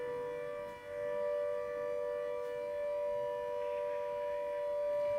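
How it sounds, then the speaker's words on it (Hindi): An air raid warning siren sounds during a blackout mock drill, a steady sustained wail holding one pitch for several seconds, loud and continuous with no talking. "युद्ध के हमले का सायरन बजा, उसके बाद ब्लैकआउट किया गया।"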